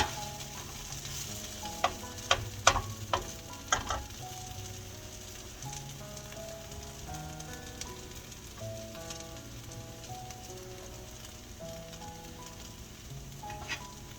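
Tater biscuits, potato pancakes, fry in a skillet with a steady sizzle, while a few sharp clinks and scrapes near the start come from them being moved around the pan.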